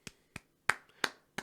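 Five sharp hand claps spaced roughly a third of a second apart, crisp and close with quick decay and no voices.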